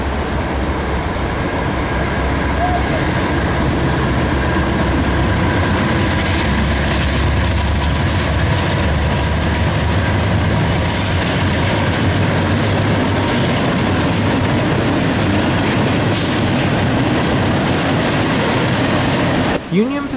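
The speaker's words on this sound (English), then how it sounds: "We then saw an eastbound NS Manifest freight with a special Union Pacific" An eastbound Norfolk Southern manifest freight train hauling a Union Pacific EMD SD70M locomotive rolls past up close, a loud steady rumble with clickety-clack of wagons and a horn-like tone sliding overhead.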